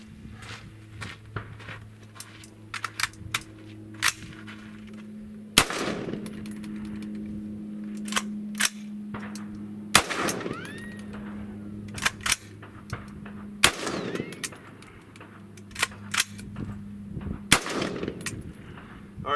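Gunfire at an outdoor shooting range, a string of sharp single shots spaced irregularly over a low steady hum, each crack loud and close with a brief echo tail.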